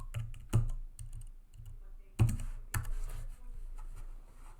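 Fast bursts of keystrokes on a computer keyboard, close and crisp, with short pauses between clusters of clicks and no talking.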